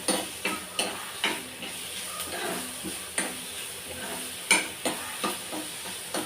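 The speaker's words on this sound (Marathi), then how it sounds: "सगळे बारीक कापून ठेवलेले होते ते कांदे टाकायचे कांदे पण चांगले असे लालसर होऊ द्यायचे" Finely chopped onions fry and sizzle in a pan for ragda patties, with a steady soft sizzle and repeated light clicks of a spoon stirring against the pan.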